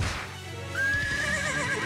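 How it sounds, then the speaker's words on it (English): Horses neighing in the Sword Art Online Integral Factor video game during an ambush on guarded carriages: a loud, drawn-out whinny rises partway through over a low game background. "Something's wrong with the horses."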